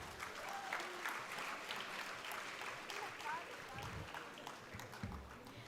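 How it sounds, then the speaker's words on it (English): A conference audience of students claps steadily through the whole stretch as a crowd, a dense, even wash of applause at moderate distance with no lulls. "A huge round of applause, please."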